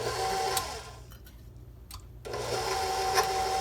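An electric mixer whirs through cake batter of flour, baking soda and salt, running steadily, dropping out for about a second in the middle and then resuming.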